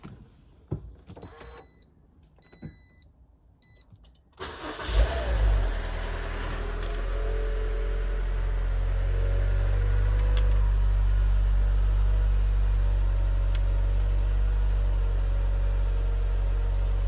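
A 2014 Toyota 1.8 petrol automatic starts after a few seconds of quiet clicks and chimes: a brief cranking burst, then a steady, close idling hum that runs on to the end.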